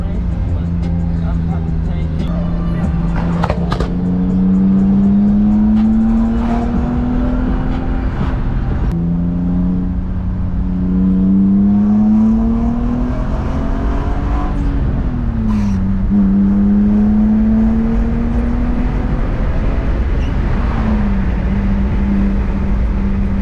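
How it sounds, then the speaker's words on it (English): BMW E36 engine with aftermarket exhaust starting up and running, with a steady low drone that swells through light throttle changes and a couple of rising revs, close and continuous while someone talks over it. "Get that nice smooth startup now with that exhaust."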